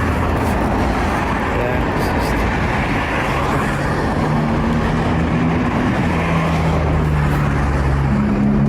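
A loud, constant rumble of a car engine, dense and steady throughout, with a low drone shifting in pitch and a voice faintly mixed in.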